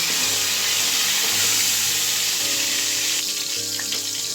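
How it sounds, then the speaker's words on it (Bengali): Pointed gourd (potol) fries in hot oil, producing a continuous bright sizzle with soft crackles that is close and even throughout, with no voices. "পটলগুলো ভাজা হয়ে গেছে, এক এক করে উঠে নেব।"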